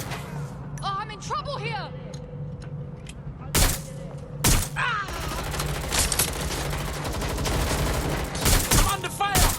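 Rapid gunfire bursts and loud shots in the Watch Dogs: Legion video game, continuous through the clip with sharp booms near the middle, while someone talks excitedly over the action.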